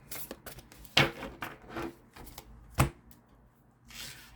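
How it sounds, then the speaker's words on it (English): Tarot card deck being shuffled by hand, a run of soft papery riffles and slaps with two sharper snaps, close and fairly quiet, no talking. "I know this is a difficult deck to shuffle."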